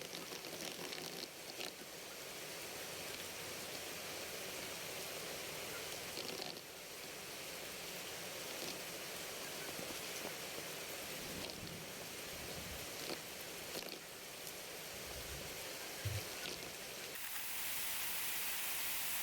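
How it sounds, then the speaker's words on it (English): Steady rain falling over a backyard chicken brooder, a constant dense hiss throughout with occasional nearby drips and a slight surge at the end, no voices. "It started raining again."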